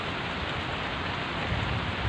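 Steady light drizzle lingers over a lakeside fishing spot at Setu Cilala as a downpour eases, giving an even, close hiss of small drops with no talk.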